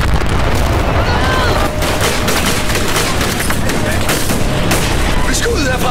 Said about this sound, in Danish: Skud herfra!